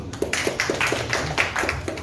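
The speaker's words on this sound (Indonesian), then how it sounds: "Tepuk tangan untuk kita semua." Scattered hand clapping from a small gathering at an Indonesian organisation's inauguration of new members and officers, a loose burst of separate claps close by, uneven in rhythm, with no voices over it.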